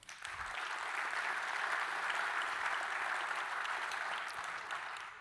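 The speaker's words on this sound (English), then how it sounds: "Please give them a round of applause" A conference audience applauds the sponsors at the Global prpl Summit 2024. The clapping is a full, even wash that holds steady from start to finish and tapers slightly at the end, with no talking over it.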